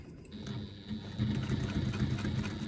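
Sewing machine basting a strap onto a bag within the seam allowance, a steady mechanical hum with a low rhythmic stitching chatter that grows louder partway through, heard alone without talk.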